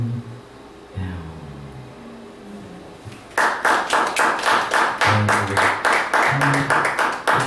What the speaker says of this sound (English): If your hands get sore, you don't have to clap.